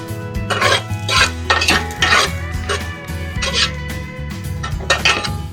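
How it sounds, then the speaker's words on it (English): A spoon stirs finely chopped garlic in a pot for salmon stew, scraping and clinking against the metal in repeated loud strokes, with a faint sizzle underneath and no talking. "Let me stir a little bit."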